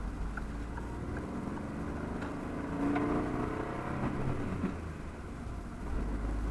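Peugeot 208 pulling away, heard from inside the cabin: the engine note rises, rumbles through an upshift and settles into a steady drone, with no talk.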